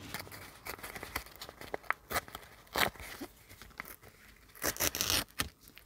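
Paper torn by hand into small squares for a junk journal, with repeated ripping and crinkling strokes, loud and close, some longer tears among short rustles.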